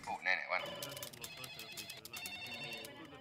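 A telephone rings with a bright electronic ringtone, a short burst near the start followed by a busier stretch of mixed tones and chatter, fairly close and moderately loud.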